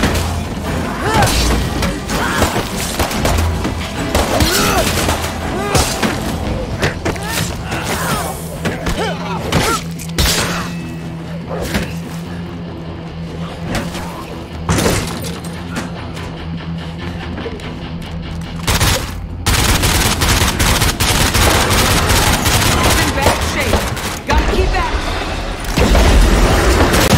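Explosive detonations in the zombie survival game State of Decay 2 go off in heavy booming bursts with shattering debris, loud and close, under an ongoing mix of game noise and occasional voices.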